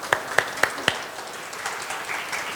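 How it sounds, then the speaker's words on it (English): Audience clapping at a chef's dessert masterclass in a hotel institute: four sharp, evenly spaced claps ring out first, then a softer, scattered patter of applause from the room. "Why are they clapping?"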